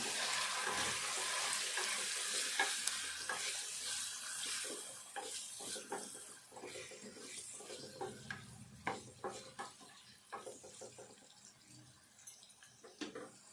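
A potato and green chilli fry is stirred in a pan, a soft continuous sizzle at first, then a series of scraping, clicking strokes of the spoon, close and quiet.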